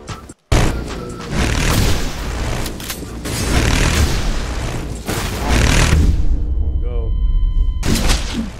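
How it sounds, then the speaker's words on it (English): Airstrike blasts in the game Criminality land as a run of loud, booming explosions and heavy thuds, rumbling almost continuously for several seconds with a brief gap near the start, with players talking over the din. "Okay, airstrike here."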